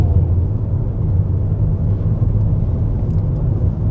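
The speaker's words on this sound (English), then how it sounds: "tire noise over the smooth asphalt" Steady low roar of tires rolling over smooth asphalt, a continuous even rumble heard from inside a moving 2026 Mitsubishi Destinator with no voices.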